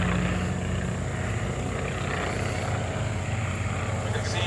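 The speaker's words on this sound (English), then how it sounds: "We'll bring that airplane back in." A World War 1 fighter plane flies close by at an airshow at Rhinebeck, New York, its propeller engine giving a loud, rough, steady roar with a dense buzzing drone throughout.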